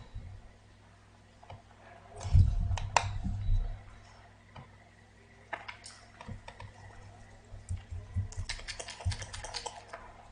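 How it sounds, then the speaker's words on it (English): A computer keyboard hammered hard during a fighting game match: fast, uneven bursts of key clicks and thumps, close and fairly quiet, densest near the start and again toward the end, with no talking. "I hope you can hear me smashing the keyboard."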